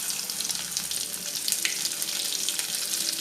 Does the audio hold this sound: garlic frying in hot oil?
yes